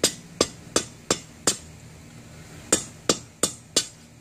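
A hammer forges metal on an anvil for a Targaryen sigil, striking nine sharp ringing blows: five in a quick steady rhythm, a pause, then four more, each clear and close.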